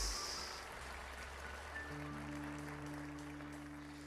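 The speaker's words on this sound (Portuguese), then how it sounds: "Vocês podem dar uma salva de palmas para eles?" A church congregation claps for its pastors, a soft, distant patter of applause under a sustained organ or keyboard drone that swells in partway through.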